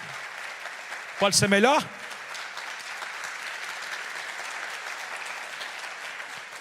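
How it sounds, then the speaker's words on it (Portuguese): A church congregation applauds steadily as a dense, even wash of clapping throughout, with someone briefly speaking over it near the start. "Você pode dar uma linda salva de palmas ao Senhor?"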